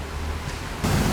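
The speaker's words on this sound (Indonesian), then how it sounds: "Ini jadi kalian bisa dengar suara air di sana di sebelah kanan" Water flowing outdoors to one side, heard without a microphone as a steady broadband rushing wash that grows noticeably louder and rougher near the end, with no voices.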